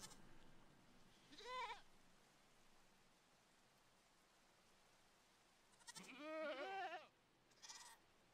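Goats bleating in Minecraft, heard as two wavering cries, a short one early and a longer, louder one later, with a brief third call at the end, over quiet ambience.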